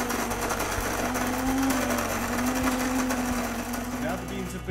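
A Breville YouBrew coffee maker grinds beans with a steady, loud mechanical whir and buzz lasting throughout, close by, with a few faint clicks from the machine.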